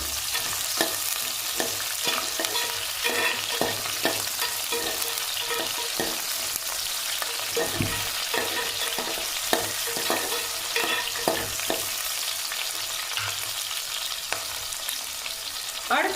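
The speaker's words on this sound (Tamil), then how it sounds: "பெரிய வெங்காயம் போட்டு செஞ்சுக்கலாம்" Big onions frying in a pan for a Tamil-style mutton kulambu curry, a continuous loud sizzle with scattered scraping stir strokes throughout, no voices.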